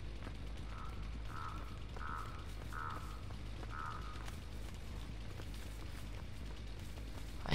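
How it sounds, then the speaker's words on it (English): Crows in the video game Dead by Daylight give five short, evenly spaced caws over a steady low ambient drone and rumble. "I hear you, crows."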